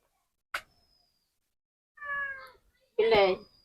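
A village cat begs for freshly cut chicken meant for biryani with two clear, close meows about a second apart, the second louder and more urgent, after a brief sharp tap near the start.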